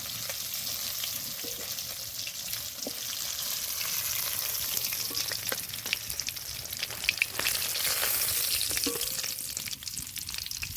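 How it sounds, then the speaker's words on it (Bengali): Pieces of soft Bhola fish fry in hot oil in a home kitchen, giving a continuous bubbling sizzle with scattered pops and crackles throughout, and no talking. "আর তিন পিস আছে দিয়ে দেবো ভালো করে ভেজে নেবো"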